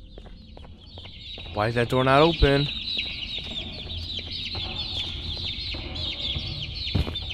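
Chickens cluck in the horror video game Garten of Ban Ban 2, a few short clucking bursts over a steady ambient drone, with someone speaking briefly over them.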